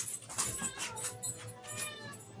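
A house cat meows a few times, close by and fairly quiet, with no talking over it.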